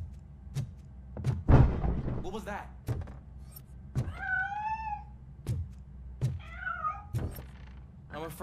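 A cat in RoboCop: Rogue City gives several distinct, drawn-out meows spaced a few seconds apart, mixed with soft thuds and short clicks.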